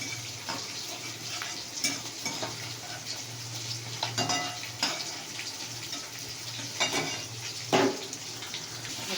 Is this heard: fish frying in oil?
yes